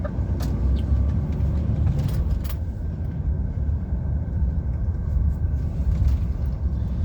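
An HGV lorry pulling a trailer rolls along a potholed road, a steady loud low engine and road rumble with occasional thuds and rattles from the trailer, and no talk heard.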